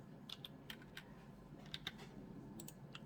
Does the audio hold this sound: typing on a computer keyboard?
yes